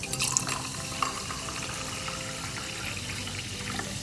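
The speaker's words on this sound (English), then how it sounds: "Fill your glass about 3/4 of the way with some sparkling seltzer." Sparkling seltzer poured into a glass, a continuous close fizzing, trickling stream with a couple of small clinks, no talking.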